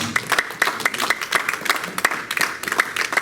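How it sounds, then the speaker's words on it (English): A congregation claps during a harvest revival night service at a church in Kansas City, with uneven sharp hand claps and scattered crowd noise throughout. "Let's clap for Jesus."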